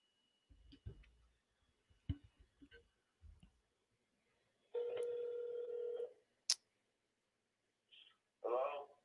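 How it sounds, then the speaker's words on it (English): A phone call is placed: scattered handset clicks and button taps, then a long steady ringing tone, a sharp click, and short tone bursts as the line connects. "Got to call Stephen on the phone."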